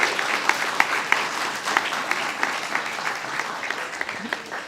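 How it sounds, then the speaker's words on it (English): Audience applause rings out at a guide dog graduation ceremony, a continuous dense round of clapping with sharp individual claps popping out near the microphone, steady and fairly loud. "Let's give one more round of applause for our graduating class of"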